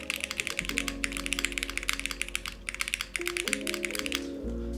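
Someone types on a newly built Ouroboros computer keyboard with steady, fairly crisp keystrokes in quick runs. Low musical tones play underneath and there is no talking.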